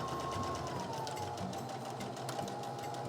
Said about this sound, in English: we're going to sew them 1/2 inch on each side